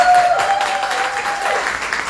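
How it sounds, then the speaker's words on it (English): Audience applause at a panel event for a sponsor from an insurance company, a steady wash of clapping with a faint tone running through the first part. "So give her a round of applause."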